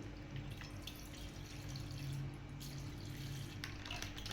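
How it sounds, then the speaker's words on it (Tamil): Milk being poured in a slow, steady stream into a bowl while making a homemade milk dessert, a soft continuous liquid trickle that stays close and even for several seconds with no talk. "1/2 லிட்ரு பால் எடுத்துக்கிட்டு அது கொஞ்சமாக ஊற்றுங்க"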